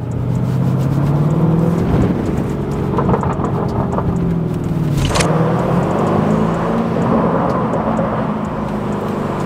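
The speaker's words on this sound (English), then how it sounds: "I want to see if the camera can capture the backfires once you have it in Corsa mode" A 2021 Lamborghini Urus in Corsa mode revs its engine while leaving a parking structure in Los Angeles, a loud rising and falling engine drone with a sharp exhaust crack near the middle and some popping.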